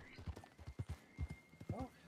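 Horse hooves clip-clop at a steady gait in Red Dead Redemption 2, a run of fairly close, soft thuds with a brief whinny near the end.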